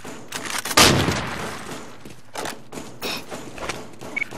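A grenade goes off in the video game Run and Fire with one sharp, loud blast near the start. Scattered softer thuds and gunfire-like pops follow.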